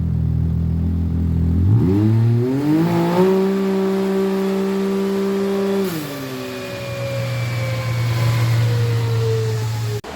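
Turbocharged Saab 900 Aero with a stage 3 tune of about 225 hp, revving hard on a launch. Loud engine note climbing steadily in pitch across shifts, then dropping and holding a steady drone, close and alone.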